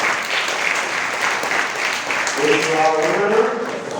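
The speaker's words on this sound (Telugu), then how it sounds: "ఇంకా బాగున్న గట్టిగా చప్పట్లు కొట్టారు." Loud, sustained clapping from a large church congregation at Sunday Mass fills the whole stretch, with a voice starting to speak near the end.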